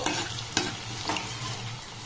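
Steady low sizzle of mango and chhana sweets frying in shallow oil over low-medium flame, with a few sharper scraping clicks as pieces are turned in the pan.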